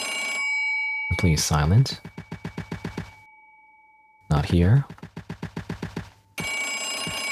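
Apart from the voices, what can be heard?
telephone ringing in the video game Nun with a Gun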